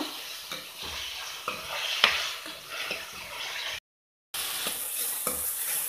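Chopped tomatoes frying with onions in a pan for a Mangalore-style crab masala, a steady close sizzle broken by repeated stirring scrapes. The sound drops out for a brief moment, then the frying returns.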